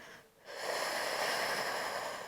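A long, steady nasal inhale during a Pilates ball exercise: a brief quiet pause, then a close, breathy airflow that holds evenly for about two seconds.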